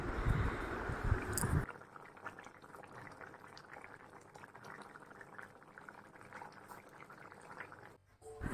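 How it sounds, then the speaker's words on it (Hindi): Water with prawns in it bubbles at a steady boil in a pot, a soft continuous gurgling after a louder burst of sizzle at the start. "अच्छी तरह से उबलना शुरू हो गया है"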